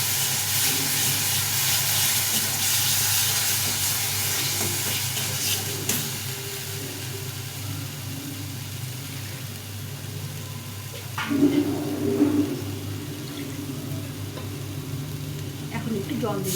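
Spice paste for a katla fish curry sizzles and hisses in hot oil in a kitchen, a steady frying crackle with occasional stirring scrapes and a louder burst near the end.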